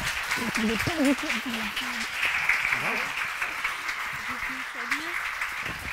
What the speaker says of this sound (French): Je vous demande d'applaudir la belle boîte, les comédiens